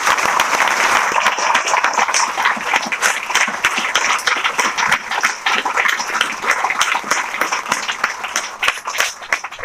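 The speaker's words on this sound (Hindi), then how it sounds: "मैं चाहूँगा एक बार इनके सम्मान के लिए ताली बजाएं आप लोग।" Sustained applause from a large audience gathered to honour a teacher at a coaching institute's felicitation event, dense steady clapping filling the whole stretch at close, loud level.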